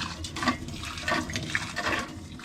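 Hot running water splashes and gurgles into glass jars nearby, a steady pour with uneven bursts and no speech.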